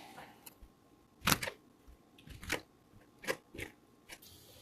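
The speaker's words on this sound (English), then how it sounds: "I'm going to cut my nectarine. And my orange." Knife slicing through a nectarine and an orange on a board, several separate crisp cuts and juicy crunches spaced out, close and fairly quiet with no talking.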